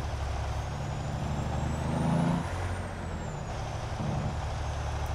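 Mack R Series Superliner truck in Euro Truck Simulator, old-school engine droning loudly and steadily, with a brief swell in revs midway and a faint high whine above.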